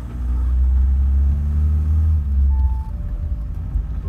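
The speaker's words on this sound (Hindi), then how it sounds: "अब मैंने हल्की सी गाड़ी को जो है रेस दी है।" A 2.0 TDI Audi A6 automatic gets a light rev. Its deep diesel rumble swells steadily and then eases back, close up and continuous, with no voices.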